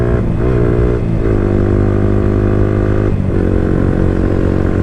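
A Yamaha R15 V4 Monster Energy edition motorcycle fitted with an Akrapovic exhaust roars steadily and loudly close by, with a few brief throttle dips and rises in engine pitch as it runs near 5000 RPM.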